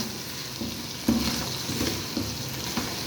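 Chicken and vegetables sizzle steadily in a pan over a low flame, a continuous close frying crackle with a few soft stirring knocks and no talking.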